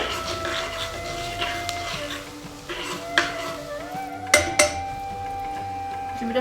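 Hing and ginger stirred in a pan give soft scrapes and a few sharp metallic clinks near the end, with faint tonal hums underneath.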